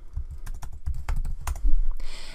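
Rapid keystrokes on a computer keyboard while entering a command in AutoCAD, a quick uneven run of close, crisp clicks ending in a brief burst of hiss.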